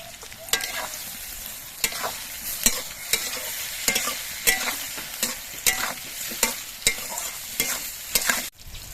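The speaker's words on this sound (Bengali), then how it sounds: "বেগুনগুলো ভাজার সময় আমি অল্প করে একটু নুন দিচ্ছি" Eggplant pieces frying with a pinch of salt in a pan, a steady close sizzle broken by regular scraping stirs of a spatula roughly every second.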